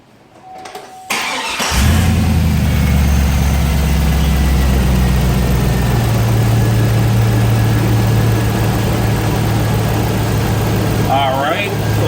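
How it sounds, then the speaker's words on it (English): A 2002 Chevy Suburban fitted with Cherry Bomb exhaust cranks and fires up, then holds a loud, deep, rumbling idle that stays steady throughout, with a voice briefly audible over it. "we got cherry bomb exhaust on this truck to give it that beefy sound"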